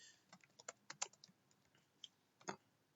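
Someone types a database insert query on a computer keyboard: a quick, uneven run of close key clicks with brief pauses and a sharper cluster of presses near the end, no talking.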